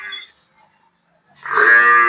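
A water buffalo on a farm with pregnant buffaloes for sale lets out a loud, close moo near the end, after a faint brief sound and a quiet pause.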